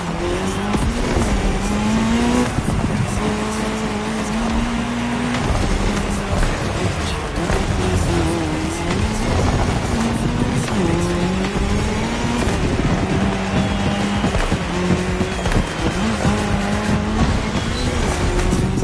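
Race cars speeding on tarmac in The Crew Motorfest, engines revving and shifting continuously with tire squeal, loud and sustained throughout.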